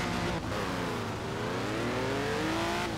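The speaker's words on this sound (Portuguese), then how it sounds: "Olha o motor hybrid, ó." BMW i8 hybrid engine accelerating in Forza Horizon 4, a continuous rising engine whine climbing steadily in pitch over a few seconds, loud and close with no talk over it.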